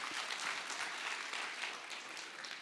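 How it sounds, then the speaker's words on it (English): A round of applause from a conference audience, dense and continuous clapping heard at a moderate distance, fairly quiet and steady throughout. "Can we give them another round of applause,"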